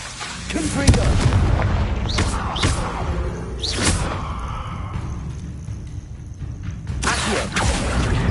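The Confringo explosive spell goes off in Hogwarts Legacy: several heavy booming blasts with whooshing bursts between them, loud and close, amid game combat noise and voices.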